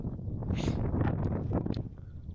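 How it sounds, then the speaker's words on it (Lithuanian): Strong wind on a mountainside buffets the microphone in loud, low rumbling gusts that rise and fall, close and continuous, with no talking. "Bet to vėjas stipriai kyla"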